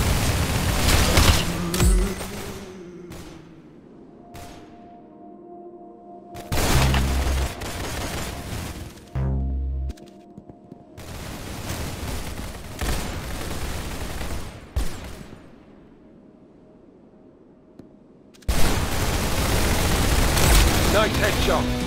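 Gunfire in the Roblox game Arsenal comes in several sharp, booming volleys and rapid bursts separated by quieter gaps, with a voice talking in between.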